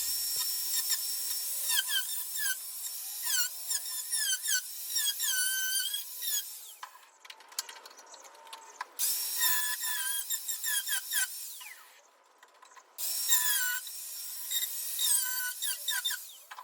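A power tool cuts rusted metal from a car roof on a VK Commodore, giving harsh, high-pitched squealing bursts that stop and start with short pauses between cuts.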